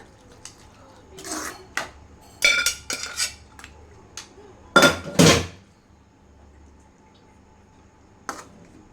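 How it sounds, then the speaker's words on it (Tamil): Mutton is stirred in a pan over a low flame, giving bursts of metallic clanks and scrapes from a spoon against the pan, with short quiet gaps between them. "ஸோ அந்த மட்டனை நம்ம இதில் ஆட் பண்ணிக்கலாம். இது கூட ஸோ ஆட் பண்ணி நம்ம வந்துட்டு லோ ஃப்ளேமில் வச்சு லைட்டாக மிக்ஸ் பண்ணி விட்டுக்கலாம்."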